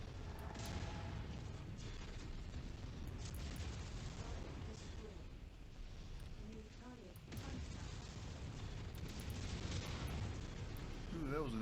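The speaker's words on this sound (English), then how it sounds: "Ooh, that was an AC-20." AC-20 autocannon fire in MechWarrior 5: Mercenaries, heavy booming blasts and rumbling explosions layered in dense game combat noise, fairly faint overall.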